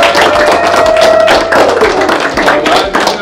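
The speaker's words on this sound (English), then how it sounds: "Let's give him a round of applause." A school audience claps loudly and steadily for a district Teacher of the Month, with dense applause filling the room and a voice briefly audible underneath.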